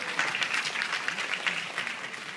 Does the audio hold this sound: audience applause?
yes